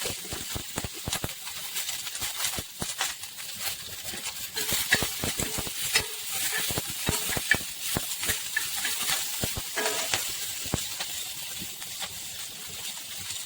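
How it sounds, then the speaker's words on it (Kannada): Tomato and four or five green chillies stir-fry on a flat pan for sambar, a continuous sizzle broken by frequent sharp scraping clicks of a spatula against the pan. "ಈ ಟೊಮೊಟೊ ಮತ್ತು ಮೆಣಸಿಕಾಯಿ ಸ್ವಲ್ಪ ಮೆತ್ತಗಾಗೋವರೆಗೂ ಚೆನ್ನಾಗಿ ಹುರ್ಕೊಳ್ತೀನಿ ನಾನು ಹಂಚಿನ ಮೇಲೇ"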